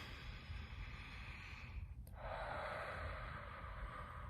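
A person takes one deep breath, a long inhale that follows a soft breathy exhale, heard close and quiet against a faint steady background hiss.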